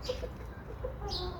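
Hens in a cage house give a few soft, short clucks close by over low background noise in a brief quiet moment.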